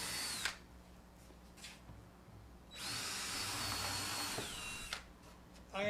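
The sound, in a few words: drilling a pilot hole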